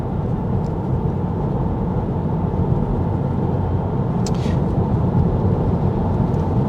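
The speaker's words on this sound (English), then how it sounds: "This is just road noise and wind noise." Steady, unbroken rumble of road and wind noise inside a moving Tesla Model 3 cabin, loud and even throughout with no talking.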